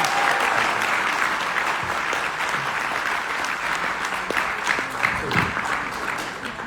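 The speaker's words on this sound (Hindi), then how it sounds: "तो एक बार नीरज जी के लिए जोरदार तालियां बजाएं।" Steady applause from an audience at a direct-selling business event, continuous dense clapping with a few louder claps near the end, no one speaking over it.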